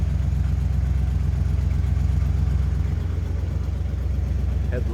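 A 1940 Buick Special street rod with a 350 engine idles in a steady, low rumble that holds even and close throughout, with a faint brief chirp near the end.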